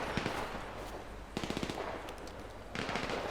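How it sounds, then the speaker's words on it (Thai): Gunfire in the video game GTA V, with bursts of rapid machine-gun shots coming in separate volleys, moderately loud against a busy game background. "มันยิงกันอยู่ฮะ"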